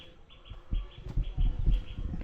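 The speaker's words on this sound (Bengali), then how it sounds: "পাখির ডাক চলে যাচ্ছে গুগুর ডাক চলে যাচ্ছে" Small birds chirp and call at sunset around a village pond, light scattered tweets that are faint and fairly distant, with low rustling and thumps nearby and no talk.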